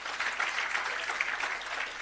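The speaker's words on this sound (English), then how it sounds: "Can we give our High Commissioner a big round of applause?" A crowd applauds for the UK High Commissioner at the official opening of an agro park, a soft, steady wash of clapping that holds evenly for two seconds at a moderate distance.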